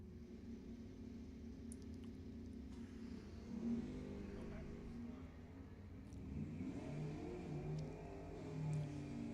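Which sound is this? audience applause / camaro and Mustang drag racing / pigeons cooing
camaro and Mustang drag racing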